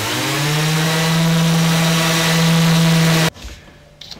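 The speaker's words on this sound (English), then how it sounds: "I've used a random orbit sander to clean up the surface" A random orbit sander runs on a wooden surface for a final pass, a loud, steady motor hum and whir held close for about three seconds before it cuts off abruptly into quiet handling noise.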